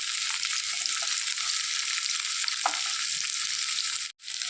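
Shallots, garlic and green chilies fry in a pan for shallot curry, giving a steady close sizzle with occasional soft scraping stirs, broken by a brief drop near the end.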